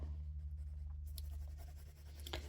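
A watercolour pencil scratches across paper in a tonal drawing, with a few short, soft strokes over a low steady hum, close and quiet.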